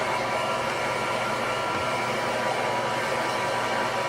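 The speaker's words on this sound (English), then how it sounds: "So you want to always keep the dryer moving." A steady, even blowing hiss of a hair dryer runs unbroken throughout, loud and close, with no voices.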